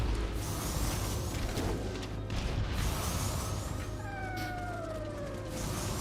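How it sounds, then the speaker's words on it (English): A cat meows in a game scene, its rising and falling calls sounding over a steady ambient rumble and background noise, with no talking. "What's up, kitty cat?"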